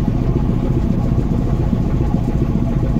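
A new engine aboard the Adventure-9 passenger launch, not yet river-trialled and not pushed hard, runs with a steady, dense low rumble and faint clatter, close and continuous throughout.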